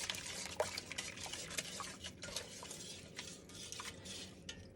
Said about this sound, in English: go ahead and start whisking and getting it all incorporated